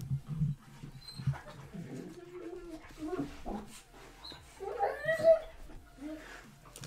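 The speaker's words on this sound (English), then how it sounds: "You guys freaking out over there, huh? These dogs have been playing together for hours upon hours." Dogs that have been playing together for hours yelp, whine and squabble in excited bursts at a moderate distance, mixed with scuffling, while a person talks over them.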